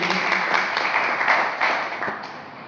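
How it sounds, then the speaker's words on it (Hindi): Applause rises from the audience at a meeting in a Guna hotel, a full patter of many hands that thins out toward the end of a few seconds. "मैं आप सबसे चाहूंगा एक बार जबरदस्त तालियां मिस्टर ब्रजमोहन कुशवाहा जी के लिए"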